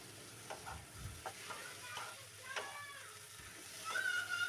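Okra hits hot mustard paste in a pan, sizzling quietly with a few sharp stirring scrapes, and the sizzle rises near the end while a voice is heard faintly.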